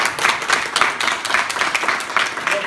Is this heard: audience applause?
yes